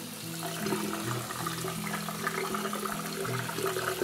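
Water runs steadily from a tap as freshly picked cherries are rinsed. The flow is a fairly soft, continuous splash with slight shifts in tone, and there is no speech.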